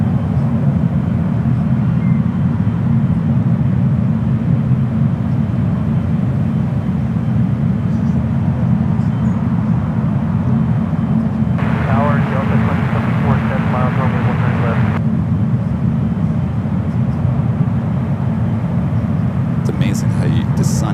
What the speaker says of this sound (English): Over to the Delta 767 up next for arrival.